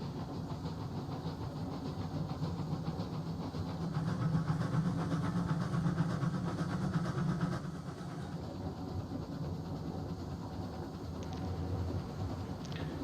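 A train running on track in RailRoads Online, a steady rumbling roll with faint clickety-clack that swells and eases as it moves, heard alone throughout.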